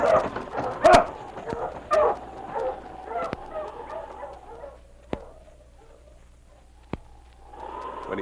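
Sled dogs in a snowy Yukon setting give off a scattered run of yips, whimpers and short barks, some close and sharp, others softer, separated by quiet gaps.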